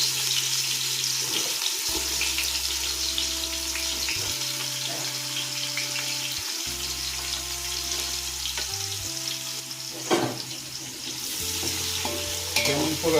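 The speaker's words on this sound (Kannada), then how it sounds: "ಈಗ ಈರುಳ್ಳಿ ಹಾಕ್ಕೊತಾ ಇದ್ದೀವಿ. ನೋಡಿ ಫ್ರೆಂಡ್ಸ್, ಎಣ್ಣೆ ಚೆನ್ನಾಗಿ ಇದಾಗೈತೆ." Onions frying in oil for biryani, with cardamom in the pot, in a village kitchen: a loud, steady bubbling sizzle runs throughout alongside a low droning hum, with a sharper stirring clatter near the end.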